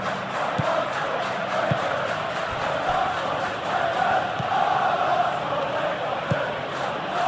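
A football stadium crowd in a FIFA-style video game roars and murmurs as a continuous wall of sound, with occasional louder swells and sharp thumps.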